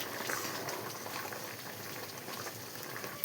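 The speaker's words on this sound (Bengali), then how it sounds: "যে একটুখানি ফুটুক।" A pan of fish and potato curry bubbles on the stove with a soft, steady simmering hiss and gentle popping, close by, with no talking.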